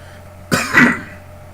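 One harsh cough bursts out alone over a quiet background hum, rough and throaty, lasting about half a second.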